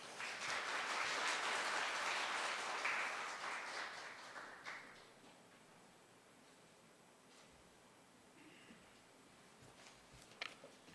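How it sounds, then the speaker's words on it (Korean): An audience at an agricultural research institute opening ceremony claps to welcome the director to the podium, loud for about five seconds and then fading to scattered claps and quiet room noise. "원장님 큰 박수로 앞으로 모시겠습니다"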